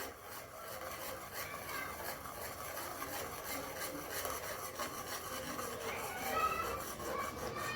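Batter made from dried chickpea leaves is stirred in a pan, giving a steady, soft scraping and rubbing that continues throughout at low volume.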